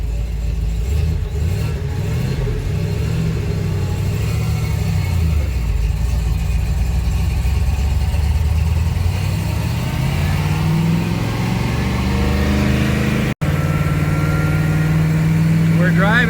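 A 1979 AMC AMX with a rebuilt 304 V8 and four-speed driving slowly, its engine a loud, steady low rumble that swells and eases with throttle, close up from inside the car, with people talking over it.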